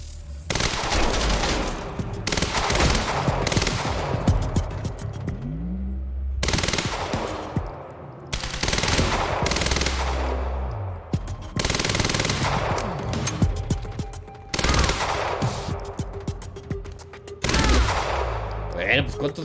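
Sustained bursts of machine gun fire in the shooter game Quantum Break, loud and close, in repeated volleys separated by brief gaps, with heavy impacts and game effects between them.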